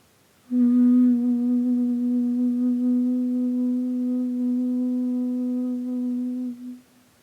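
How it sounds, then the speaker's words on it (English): A single steady, low hum is held for about six seconds, even in pitch and loudness, then fades out at the end. "Or they might like to hum again here."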